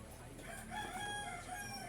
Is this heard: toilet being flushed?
no